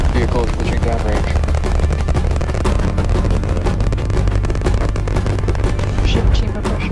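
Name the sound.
SpaceX rocket liftoff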